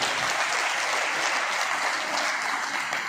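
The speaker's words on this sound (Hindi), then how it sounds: "बजाओ एक बार इनके लिए तालियां" Steady applause from the crowd at a ministerial employees' awareness conference in Sri Ganganagar, many hands clapping together in a dense, even stream without pause.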